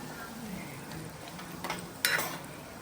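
Dabeli masala stirred in a pan, a faint steady scraping with two brief spoon-against-metal clinks near the end.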